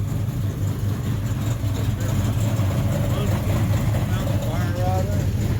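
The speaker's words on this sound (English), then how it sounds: "The Hemi sounds pretty friggin' mean." A Dodge Charger's Hemi V8 rumbles steadily at idle, a dense low-frequency growl that holds even throughout, with people talking faintly in the background.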